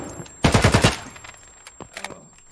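A close, loud burst of rapid automatic gunfire, about six shots, rattles out in Escape From Tarkov, followed by fainter scattered clicks and distant pops.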